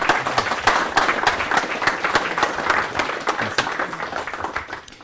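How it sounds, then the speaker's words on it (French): A conference audience claps steadily throughout after a talk, a dense round of applause that fades slightly toward the end. "on va applaudir monsieur quand même"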